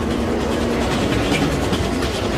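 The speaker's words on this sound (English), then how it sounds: "When a train enters an underground platform, it pushes a rush of air ahead of it." An underground train enters a station platform with a steady, loud rumble and rattle of wheels and carriages, sustained throughout with no voices.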